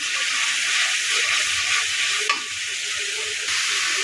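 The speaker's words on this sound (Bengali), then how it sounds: "তেল লেবু দিয়ে একটু নেড়ে চেড়ে নিলাম" Spiced masala and bel lebu citrus stirred and fried in oil for a katla fish curry, a steady bright sizzle with a soft scrape partway through and no voices.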